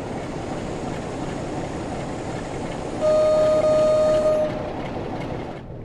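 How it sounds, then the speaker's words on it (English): Train engines in Train Sim World 2 on a West Cornwall local mail train run with a steady rumbling drone, joined midway by a sustained tonal horn-like note for about a second and a half. "Sometimes it's nice to just like hear them clicking over and then just listen to the train."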